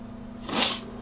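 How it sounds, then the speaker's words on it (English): A single short, breathy nasal sniff rises and fades in about half a second against a quiet background with a low steady hum. "Sniffles are so annoying."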